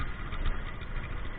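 A Honda Titan motorcycle fitted with a modified 2-in-1 exhaust idles steadily at close range, a low, even engine rumble with no voices over it.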